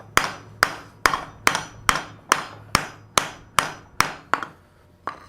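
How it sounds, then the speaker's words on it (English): Hammers strike a metal bowl on a bowl stake, a dozen sharp ringing blows in a steady, even rhythm about half a second apart, close and loud with no talk. "this is taking the small hammer, is driving the center down a lot further, okay? And then what the larger hammer is it's cleaning up any of those small hammer blows"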